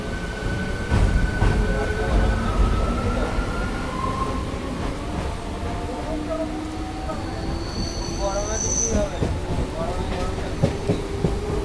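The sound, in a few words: Howrah–Bandel local train running and arriving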